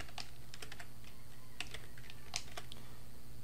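Keys clatter on a computer keyboard during a C++ programming lesson, quick irregular clicks in short bursts over a faint steady hum, close and fairly quiet, with no voices.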